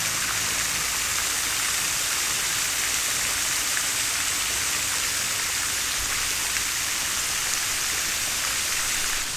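Steady broadband hiss of water from a hose or can spraying onto garden plants, tomatillos and a mini pumpkin in beds, continuous and fairly loud with no talking.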